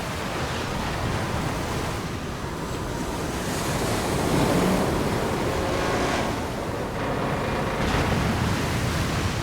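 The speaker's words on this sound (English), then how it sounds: "The waves are gonna smash us to pieces!" Heavy ocean waves crash and roar in the video game Lost Odyssey, a loud continuous surging wash with swelling peaks and wind-like noise, no speech.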